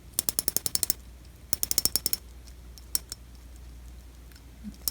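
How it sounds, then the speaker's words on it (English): A cheap fake Wish.com watch bezel is turned in two quick runs of sharp, clanky clicks at close range, followed by a few isolated clicks against quiet background hiss. "Let's try the bezel real quick."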